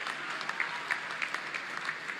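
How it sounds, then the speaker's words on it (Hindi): Steady applause from a crowd at a Lucknow ceremony honouring Olympic hockey player Salima Tete, a dense even patter of many hands clapping throughout, moderately loud with no voices on top. "जोरदार तालियां सलीमा के लिए"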